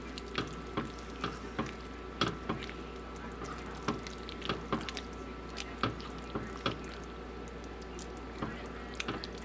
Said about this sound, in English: We're gonna sit there and stir this all up.